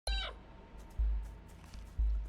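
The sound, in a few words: cat meowing in the video game Stray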